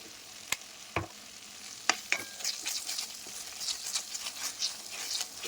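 Pasta seasoned with chilli flakes and all-purpose seasoning is stirred in a frying pan: a few sharp spoon scrapes, then a busier run of scraping strokes over a low sizzle, close by with no talking.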